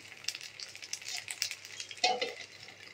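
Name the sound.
food frying in a covered pan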